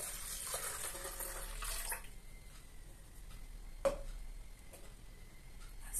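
Water splashes and pours into a blender for a couple of seconds, then quieter trickling and a small clink follow, close by with no talking.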